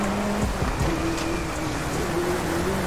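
Heavy rainstorm in the racing video game Driveclub or Gran Turismo 7, a steady dense hiss of rain drumming on surfaces with a low engine tone running underneath throughout.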